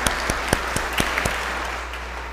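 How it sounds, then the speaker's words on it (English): Church congregation applauding after a deacon's reflection during a Catholic liturgy, a brief burst of claps with sharp distinct hits near the start that quickly thin into a softer, sustained patter. "a round of applause"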